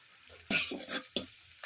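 Spice paste with ginger paste and a little sugar is sautéed and stirred in a pan for ridge gourd with poppy seed, a few scraping stirs with soft sizzling bursts, close and moderately loud, no voices.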